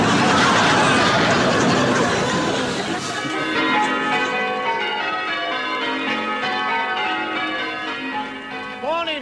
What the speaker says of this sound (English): Nice to hear the bells again.